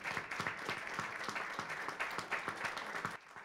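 Steady applause from an audience at the founding event of the Mexican Academy of Poetry, a dense continuous patter of many hands at moderate distance, fading out just before the end.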